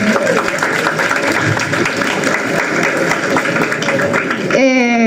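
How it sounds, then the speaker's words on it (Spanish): A class group applauds during a lesson, with steady clapping running under a speaking voice, ending in a sharp rising tonal sound. "un aplauso, por favor"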